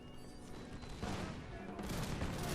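Massed musket volleys crackle across a Napoleonic battlefield in Napoleon: Total War, a dense, continuous roar of fire from both sides that swells louder midway and stays heavy throughout.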